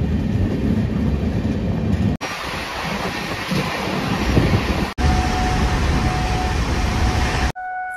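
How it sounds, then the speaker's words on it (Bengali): Steel Express train hauled by a WAP7 locomotive between Tatanagar and Howrah rushes along loudly, a dense continuous rumble and rattle of carriages with wind, broken by brief abrupt cuts. "আজকে আমাদের টাটানগর থেকে হাওড়া অব্দি নিয়ে যাবে স্টিল এক্সপ্রেস কে"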